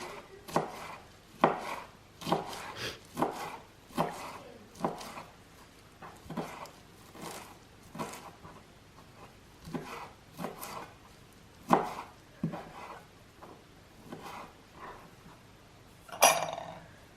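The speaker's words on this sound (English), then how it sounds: "we're just going to chop up the fresh coriander" Fresh coriander chopped with a knife on a board for onion bhaji, a steady run of close, crisp thuds about once a second, with a louder knock near the end.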